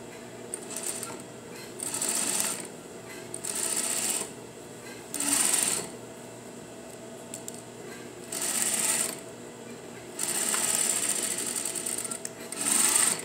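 A sewing machine stitches the front pockets and pocket bags of a pair of jeans, running in several short bursts of whirring with brief pauses between, fairly close and steady.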